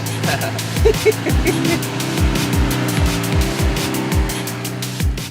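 A car being driven around a city block, its engine droning steadily and close with repeated low thumps and rumbles as it moves, a voice speaking briefly over it.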